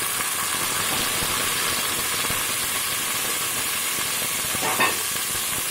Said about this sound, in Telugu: ఇప్పుడు మనం కడిగి ఉంచుకున్న కాలీఫ్లవర్ ముక్కలు వేసుకుందాం.